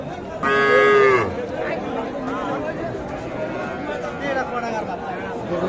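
Young crossbred bull calves at a livestock market, one giving a loud, drawn-out moo lasting under a second near the start, over a steady background of crowd chatter and people talking throughout.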